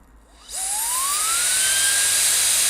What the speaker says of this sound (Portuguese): o barulho do WMark ligando e desligando é bonito, né? Aquela sensação de turbina